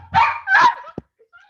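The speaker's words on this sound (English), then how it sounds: "Your dog's barking made my guy's up here too." A dog barks twice in quick succession, close and fairly loud, followed by a short sharp yip and a faint whine fading into quiet.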